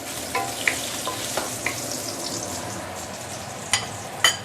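Shiitake mushrooms fry in oil with a soft steady sizzle, broken by a few sharp crackles and spatula taps, close up and with no speech.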